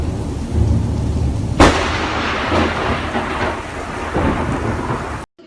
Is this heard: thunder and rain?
yes